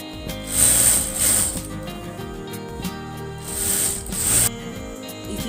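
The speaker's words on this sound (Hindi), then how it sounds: "अब इधर से हम एक सिलाई कर देंगे।" A sewing machine stitches a gathered seam on a baby frock, its motor whirring in two steady bursts separated by a quieter pause, close and alone with no talk.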